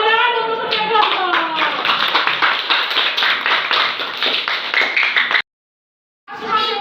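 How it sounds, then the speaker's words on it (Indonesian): A class of schoolchildren claps hands together for each group, sharp rhythmic claps with children's voices and talk layered on top, stopping abruptly before a brief burst resumes. "Tepuk tangan untuk setiap kelompok."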